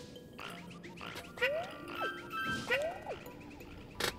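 Small cartoonish dogs yip and bark in Yoshi's Woolly World, several short, bright, sliding barks scattered through the clip over a steady game backdrop.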